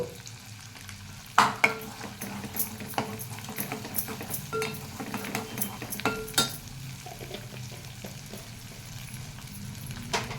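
Chutney ingredients with ginger-garlic paste and turmeric frying in a pan, a low steady sizzle broken by sharp scrapes and knocks of a stirring spoon, close and moderately quiet with no talk.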